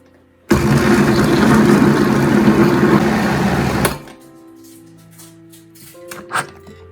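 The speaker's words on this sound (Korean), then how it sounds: "물을 붓고 믹서를 해줍니다." Blender whirs loudly for about three seconds, chopping apple, pear, onion and water for kimchi, with a sudden start and abrupt stop followed by quiet kitchen clinks.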